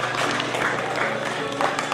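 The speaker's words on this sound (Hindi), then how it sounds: "एक बार तालियां क्लैपिंग करके स्वागत कीजिए" Audience applause welcoming guests at a school sports meet closing ceremony, a steady wash of clapping filling the hall for the full two seconds with a faint voice mixed in.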